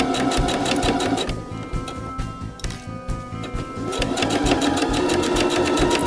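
Sewing machine stitching steadily along the strap of a tote bag, its rapid mechanical chatter loud and close, briefly slowing midway before running again at full speed with no talk.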